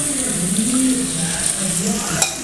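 Beef curry fries in a pan with a continuous close sizzle and soft stirring scrapes, with one small clink near the end.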